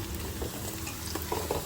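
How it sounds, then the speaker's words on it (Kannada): Spices with fenugreek frying for biryani, giving a brief, continuous sizzle with a few light stirring scrapes, close and moderately loud. "ಫ್ರೈ ಮಾಡ್ಕೊತಾ ಇದ್ದಾರೆ ಸ್ವಲ್ಪ ಚೆನ್ನಾಗಿ."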